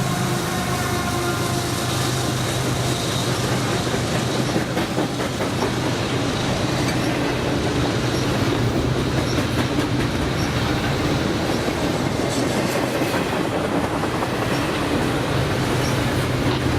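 A freight train rumbles steadily past up close at Buffalo Depew Station, with continuous clattering wheels and some metallic squealing over a heavy, unbroken roar.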